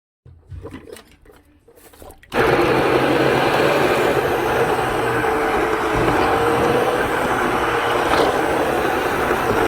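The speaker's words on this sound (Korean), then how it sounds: "이거 이제 찹쌀 밥에다 갖다 넣고 이제 갈아야지 곱게" A blender grinds cooked glutinous rice finely, starting abruptly after a quiet moment and then holding a loud, steady, coarse whirring roar to the end.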